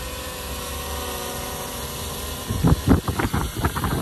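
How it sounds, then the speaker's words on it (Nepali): A helicopter flies overhead with a steady whirring drone, then louder rhythmic rotor thumps surge in over the last second and a half. "लिन हेली उति उड्दैछ"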